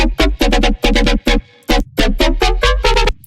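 FM synth patch from Serum playing a choppy, pulsing pattern of short bright stabs with a deep low end, separated by brief gaps, loud and alone.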